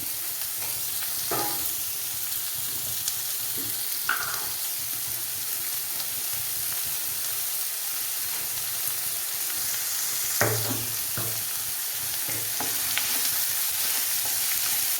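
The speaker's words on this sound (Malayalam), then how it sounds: "ചെറുതാക്കി അരിഞ്ഞെടുത്ത ഒരു രണ്ട് സവോളയുണ്ട് ഒരല്പം ഉപ്പും കൂടെ ചേർത്ത് വഴറ്റിയെടുക്കാം" Two finely chopped onions sauté with a pinch of salt in a pan, a continuous hissing sizzle that runs throughout, punctuated by occasional soft scrapes and taps from stirring.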